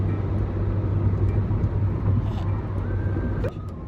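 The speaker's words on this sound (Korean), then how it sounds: "지호는 아직도 열심히 운전 중이에요." A car drives along a palm-lined road in California, its steady low engine and road rumble mixed with wind noise, easing off near the end.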